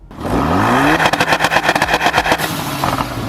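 A 2017 Ford Focus RS engine revs up, then a rapid stuttering series of two-step launch-control exhaust pops and bangs fires in a burst before settling into a loud idle.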